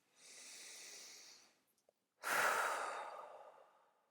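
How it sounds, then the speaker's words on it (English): Two deep, slow breaths during a guided meditation, a long airy inhale followed by a brief pause and a louder, sighing exhale, close and alone. "So let's take a few more deep breaths."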